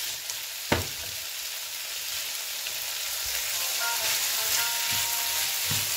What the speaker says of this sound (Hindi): आपने इसे कम से कम 5 से 6 मिनट आपने तेज़ आंच पर इसे पकाना है।